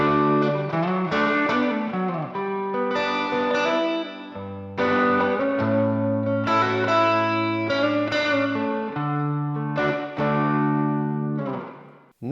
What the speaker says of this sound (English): It's as simple as just going to the reverb button,